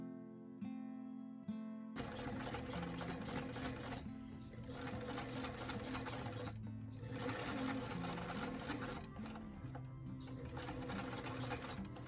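A sewing machine stitches a paneled doll skirt steadily in a fast, continuous mechanical chatter, close and loud, with brief pauses where the fabric is turned.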